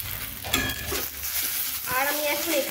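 Okra and eggplant frying together in a pan, with a loud, continuous sizzle and crackle and the scrape of a spatula stirring the vegetables up close.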